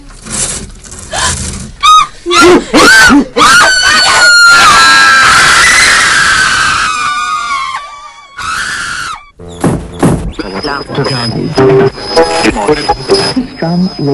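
Loud, terrified screaming from a Polish crime radio drama, sustained and anguished for several seconds before breaking off, then followed by other staged sounds and voices.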